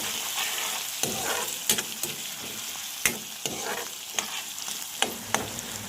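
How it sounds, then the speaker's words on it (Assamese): Chopped onions sizzle in hot oil in a pan for a chicken fry, with a spoon scraping and stirring in sharp repeated strokes over the continuous crackle. "এয়া চাওকচোন, ইয়াত পিঁয়াজখিনি ভাজি আছে বৰ্তমান"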